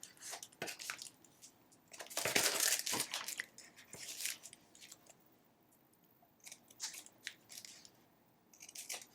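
Scissors snip through thin washi tape at a craft table, trimming the excess; a run of short crisp cuts and rustles, with one louder crinkling burst in the middle, close and clear with no talking.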